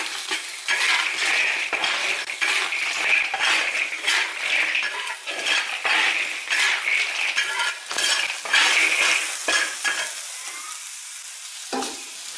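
River snails stir-fried with chili peppers in a rural kitchen: a steady sizzle with repeated scraping and clattering strokes of a spatula against the wok, close and continuous, no talking.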